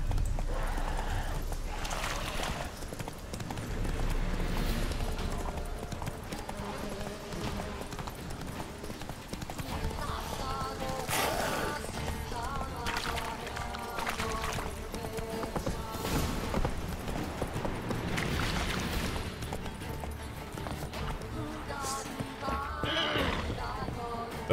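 Hooves clatter in a steady galloping rhythm alongside an occasional horse whinny in The Witcher 3: Wild Hunt, with a busy game soundtrack mixed in underneath.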